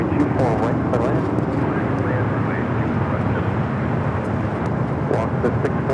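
Aircraft at Los Angeles LAX airport, a steady broad roar with a distant jet drone under continuous talking voices.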